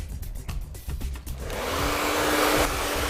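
A hair dryer switches on and blows steadily while drying hair for a volume blow-dry, a loud continuous whoosh with a faint whine after a few soft handling knocks.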